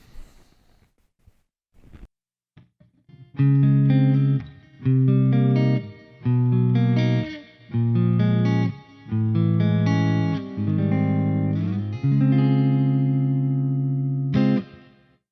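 Clean electric guitar chords ring out through a Peavey Prowler amp with a Sheffield 1230 speaker and noticeable reverb, several strummed phrases with sustained, shimmering tails, played alone without talk.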